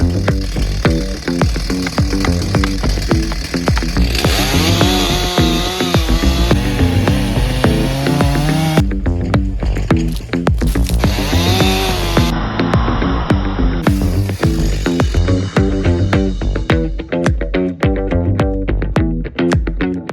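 Chainsaw cutting through big tree logs, the engine droning loudly and bogging into the wood with shifting pitch, then a run of sharp knocks and clatter near the end.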